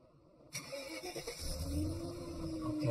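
A truck engine cranks over and catches, then runs at a steady idle up close after a brief quiet start, with no voices.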